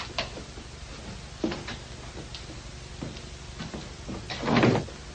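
A guest-room door is shut and locked in an old house, heard as several sharp wooden knocks and latch clicks spaced apart, with a louder rattling clunk near the end.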